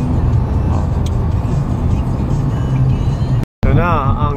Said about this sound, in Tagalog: Bibilis dito ng mga sasakyan.